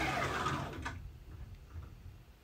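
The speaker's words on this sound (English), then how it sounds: "the printer's a little loud and I don't want to talk over it too much here" An Annex Engineering K2 3D printer with direct-drive Z runs loudly right after a firmware restart, a dense mechanical whir that cuts off within a second, leaving a faint low hum alone.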